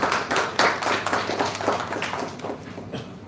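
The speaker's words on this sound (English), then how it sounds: "let us welcome them all with a warm round of applause" An audience at an MoU signing ceremony on a large stage gives a round of applause, a dense burst of many hands clapping that starts loud and slowly thins over a few seconds, with no talking.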